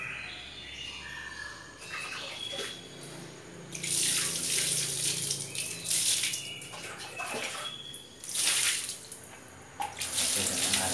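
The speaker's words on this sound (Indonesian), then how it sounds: "nanti kita akan basuh ya dengan air" Tap water gushes and splashes over hands and skin being rinsed of oily jackfruit sap, steady and close, swelling louder in bursts as the stream hits and is interrupted.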